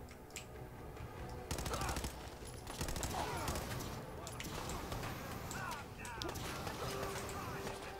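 Gunfire in the Fallout video game crackles in rapid, repeated bursts of shots and impacts, moderately loud under a person talking.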